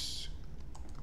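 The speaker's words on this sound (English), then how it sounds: "I'm going to type here between quotes" Typing on a computer keyboard: a quick burst of quiet key clicks, faint and close, with no voices.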